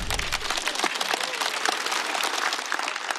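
Audience applause at a stand-up comedy show for comedian Shi Yan: dense, steady clapping from a large crowd, loud and continuous throughout with no talk over it.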